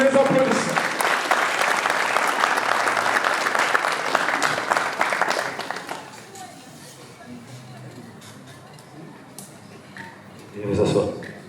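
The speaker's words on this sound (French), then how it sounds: "sous les applaudissements." A crowd at a traditional dowry ceremony in Pointe-Noire, Congo, claps in loud, dense applause that fades after about six seconds into quieter room noise, with a brief swell near the end.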